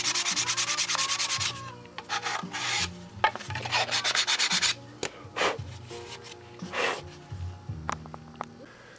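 Sanding trues up the edge of a wooden piece with steady, rhythmic rasping strokes that rise and fall. The sound is close and fairly loud, with brief pauses and a few knocks between passes.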